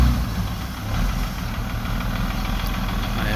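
A large crane truck engine idles as a steady, loud low rumble with mild knocking vibration, continuous and close throughout.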